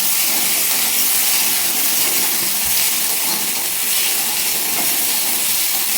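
Black cumin with garlic and green chilli paste fries in hot oil in a loud, dense, hissing sizzle that stays steady and close from start to finish, with a single dull knock partway through.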